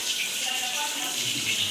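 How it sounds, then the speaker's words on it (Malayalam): A little water pours steadily into buttermilk for a Kerala-style moru curry, a short continuous splashing gush at moderate level with no other sounds. "അല്പം വെള്ളം കൂടെ ചേർത്ത്"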